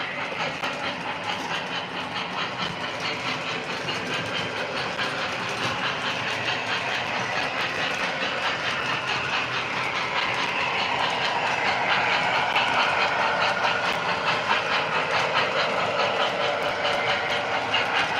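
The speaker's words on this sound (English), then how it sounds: "Smoking on the Alco is kind of loud, but it's doing its job." A smoke unit hisses and whirs steadily on an O scale Alco model locomotive, a continuous, fairly loud broadband rush with faint rhythmic ticking underneath that swells slightly partway through.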